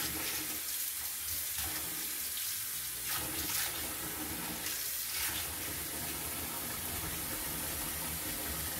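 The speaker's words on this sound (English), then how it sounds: "So you're going to wet your hair, but not to rinse it," Steady running water from a tap wets hair during a hair dye stain removal demonstration, a continuous broadband hiss with slight splashing shifts, close and fairly quiet, with no talking.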